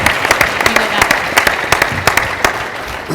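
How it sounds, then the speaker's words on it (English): Audience applause for panelists at an annual meeting of builders: loud, close claps with distinct individual hand strikes standing out over a lighter crowd clapping bed. "Give them a round of applause."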